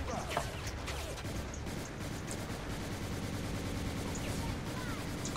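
Rapid bursts of RPD machine gun fire in a zombie, monster and robot shooter game, dense and sustained at close range, with other game noise layered underneath.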